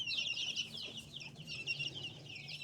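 Young Australorp chicks peep and chirp almost continuously, high-pitched calls overlapping near and loud against a quiet barn background.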